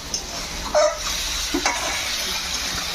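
Duck meat frying in oil in a pot over a rustic wood fire, with a steady sizzle broken by a few sharp stirring scrapes and clunks close by.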